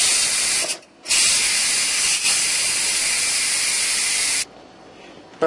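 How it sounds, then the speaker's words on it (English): A pressure cooker lets off steam in a loud, continuous, close hiss as its pressure is released by hand. The hiss breaks off briefly once and then drops to a quieter rush near the end. "I'm going to manually release the pressure from my pressure cooker."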